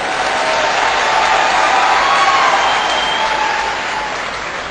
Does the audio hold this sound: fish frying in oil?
no